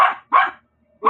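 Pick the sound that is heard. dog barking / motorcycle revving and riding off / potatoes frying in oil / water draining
dog barking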